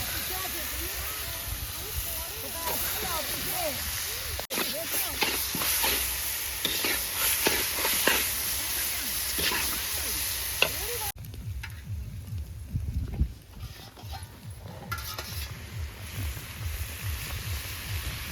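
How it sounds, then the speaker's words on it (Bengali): Cauliflower and meat being stir-fried with spices in a pan, a steady sizzle and hiss with repeated scraping stirs, close and continuous, with people talking over it at times. "ফুলকপিটা মশলার সাথে কষিয়ে নেব সঙ্গে দিয়ে দিচ্ছি উলকপি আর মাংস একসাথে কষিয়ে নেব"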